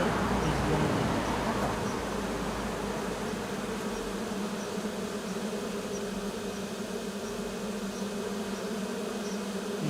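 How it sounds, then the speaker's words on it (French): Swarm of honeybees settled on the ground, a loud, continuous droning buzz that holds steady throughout, close by and dense, with a brief louder rustle near the start. "Là, vous allez entendre un fort bourdonnement."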